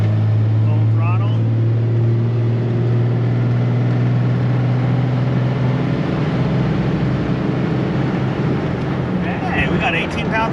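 An old 12-valve diesel truck accelerates at full throttle with its turbo building boost, a loud steady engine drone that holds throughout while a voice talks over it.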